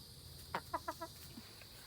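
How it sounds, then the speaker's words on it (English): Chickens on a farm give a brief series of four or five soft clucks in quick succession, faint and near over a steady background hum, with no talking. "so here are the chickens."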